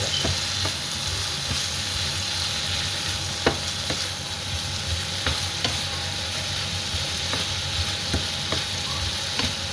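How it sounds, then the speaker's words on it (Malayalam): Pork and vegetables frying in a pan with salt, a steady, even sizzle throughout, broken by occasional sharp clicks of a spoon stirring against the pan. "ഇതൊന്ന് ഇളക്കി ഇതാക്കി"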